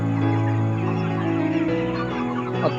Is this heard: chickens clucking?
yes